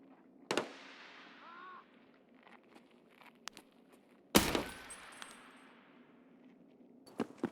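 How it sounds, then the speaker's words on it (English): Sharp distant gunshots crack across a quiet map in Escape from Tarkov, two loud isolated reports followed by fainter scattered shots and a quick burst near the end, each trailing a long echo. "There's clearly some gunfire going on"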